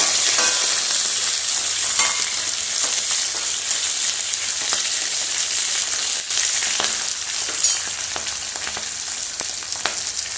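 Halved green chilies fry in hot oil in a pan for a chickpea curry, giving a loud, steady sizzle with occasional sharp stirring clicks and scrapes throughout.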